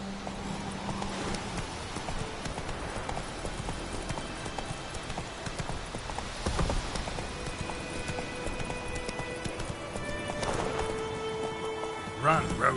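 Roach the horse galloping in The Witcher, a steady run of hoof clip-clops under game ambience and occasional talk, with a slightly louder clatter near the end.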